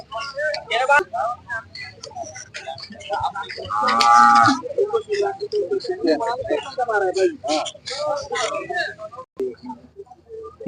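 Calves bought for bullock racing moo at a weekly cattle market in Ghoti, one loud drawn-out bellow standing out near the middle over steady crowd chatter and other animal calls.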